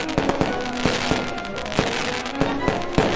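Fireworks pop and crackle in a rapid, irregular series of sharp bursts, with music running underneath in a playful animated patriotic flag soundtrack.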